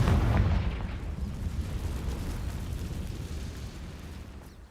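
A Confringo blasting spell explodes in Hogwarts Legacy, a deep rumbling blast that starts strong and slowly fades over several seconds, with no voices.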